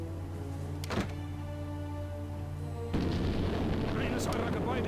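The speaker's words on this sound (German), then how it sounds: "Jemand hat eine Bombe an einem eurer Gebäude gezündet." In the game Die Gilde, a bomb goes off at a building: a muffled boom bursts out and sustained rumbling debris follows, over a steady droning background, with a brief earlier thump.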